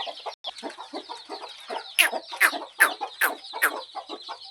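Hens cluck repeatedly in short bursts over a constant chorus of high peeping chicks on a poultry farm, close by, with a few louder clucks in a row.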